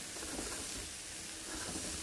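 Vegetables and shallots frying in a pot give off a steady, even sizzle and hiss, close and continuous for a couple of seconds with no voices.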